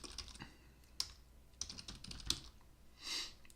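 Keys clack out a terminal command on a computer keyboard, a few quick bursts of taps separated by short pauses, close and fairly quiet, with a final soft press at the end.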